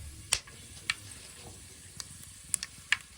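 Spices hit hot oil in a pan for a cashew paneer curry, giving a soft, steady sizzle broken by a few sharp crackles and clinks of stirring.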